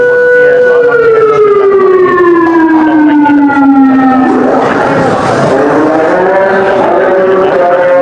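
A civil defense siren in Lahore sounds the end of the fast at iftar, a loud wailing tone that slides down, dips and rises again, steady and continuous throughout.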